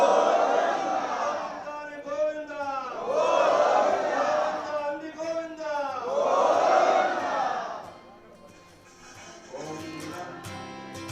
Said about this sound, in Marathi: आजूबाजूच्या परिसरातल्या भाविकांनी सुद्धा दर्शनासाठी मोठी गर्दी केल्याचं सध्या पाहायला मिळते